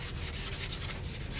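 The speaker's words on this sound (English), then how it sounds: "So what we're going to do is a little color sanding here." Sandpaper rubs back and forth over freshly painted plastic during color sanding, a steady rhythmic scratching of even strokes heard up close.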